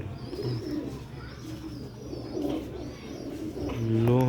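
Old-lineage Ferozpuri pigeons coo in low, throaty bursts, with a louder, closer coo near the end over a steady murmur of birds and background noise.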